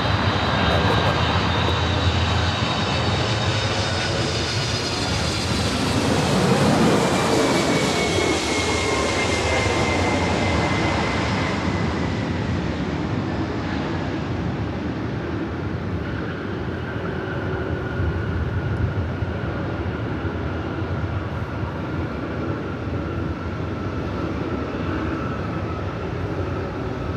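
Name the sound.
jet airliner taking off at Los Angeles LAX airport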